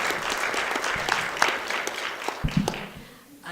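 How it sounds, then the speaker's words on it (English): Audience at a panel discussion in a cinema clapping warmly for a poet, a dense patter of hands that tapers off as a few claps linger, with a faint voice near the end. "Please give a round of applause to Ms."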